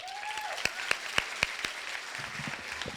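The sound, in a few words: audience applause at graduation ceremony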